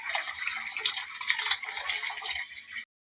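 Water pours steadily into a pot of tomato rasam, a continuous close splashing rush that cuts off abruptly near the end, with no talk over it.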